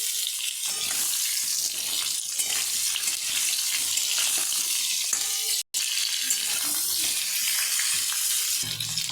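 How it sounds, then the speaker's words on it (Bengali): Potatoes fry in hot oil with a loud, continuous hiss that sounds almost like running water, with small scrapes and clinks throughout and a brief dropout midway. "আমি এখন আলুটা ভেজে নেব।"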